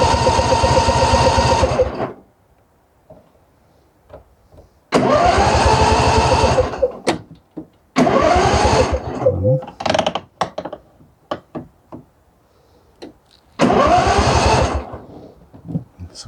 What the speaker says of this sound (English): so hopefully it should just crank right over and start.